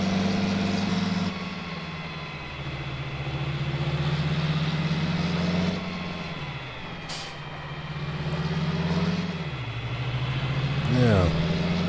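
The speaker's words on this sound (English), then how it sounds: "right now I can actually drive on it with this tractor" A tractor engine in Farming Simulator 19 drones steadily at a low pitch, rising and falling as the throttle changes, with a short hiss near the middle and voices talking over it.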